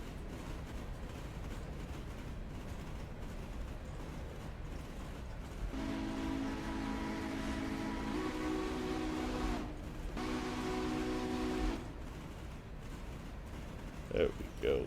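Three-chime whistle on a Berkshire steam locomotive in the Railroader game, sounding in two sustained blasts with a short break between them, over steady rumbling train noise and a voice talking.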